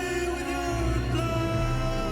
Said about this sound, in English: There's some sort of brass going on there